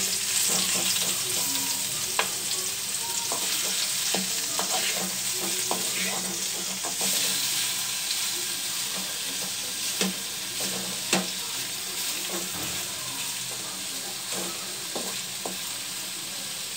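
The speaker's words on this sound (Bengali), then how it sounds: "এখন আমি করলাগুলো বেজে নিব" Bitter gourd fries loudly in a pan with a constant hiss. Frequent scrapes and clacks of stirring cut through the sizzle, and no one talks.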